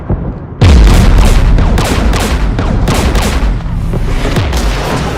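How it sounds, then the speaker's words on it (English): Sustained gunfire from a Mass Effect battle against Geth forces, with anti-aircraft guns near a jamming tower: a loud boom opens a dense, continuous fusillade of rapid shots and blasts that keeps going after a brief quiet start. "We're taking fire."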